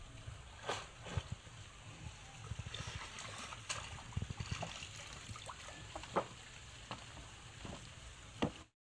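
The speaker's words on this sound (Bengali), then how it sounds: "তো আমরা এইভাবে পুকুর থেকে সবজি কেটে তারপরে পুকুর থেকে ধুয়ে নিই।" Cut vegetables are rinsed in pond water outdoors, with faint splashing, trickling and dribbling plus scattered small knocks, fairly quiet throughout.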